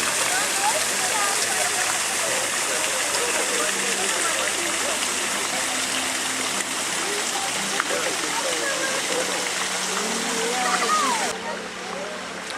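Steady, dense splashing of a cider fountain fills the whole stretch, a continuous rushing spray close by that drops off slightly near the end.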